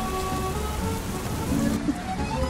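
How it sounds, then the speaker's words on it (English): Steady rain patters on a surface, a dense, even hiss of drops with a few louder splashes, no voices. "This is the benefit of rain. Washing your car in the rain."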